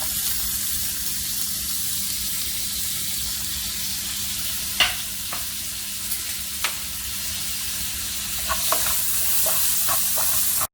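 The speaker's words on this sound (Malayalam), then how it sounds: "മീനൊന്ന് സോട്ടായിട്ടുണ്ട്" Fish sautéing in oil in a pan, a steady broadband sizzle throughout with a few sharp clinks and scrapes of a utensil near the middle and end.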